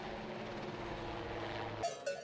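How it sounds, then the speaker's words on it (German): A military helicopter ferries water up a mountain during a drought, its rotor and engine droning steadily at close range before cutting off abruptly near the end. "Wo es geht, bringt das Militär mit dem Helikopter Wasser auf den Berg."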